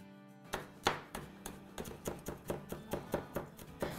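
Green chillies chopped with a knife on a board for chicken shawarma sauce, a steady run of about a dozen crisp, close taps falling at an even rhythm, heard alone without talk.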